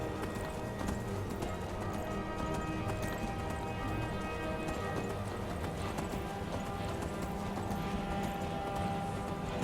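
Horse hooves clip-clop at a steady gallop in Skyrim, rhythmic and continuous, with a brief whinny and wind in the background.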